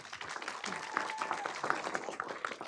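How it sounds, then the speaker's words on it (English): A city council chamber audience gives a round of applause for a Cub Scout pack leader, moderate patter of clapping hands at middle distance, steady for a few seconds with a faint tone underneath. "let's give them a round of applause"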